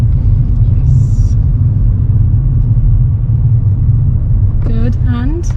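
A car engine idles with a steady low rumble throughout, loud and close, with a brief voice near the end.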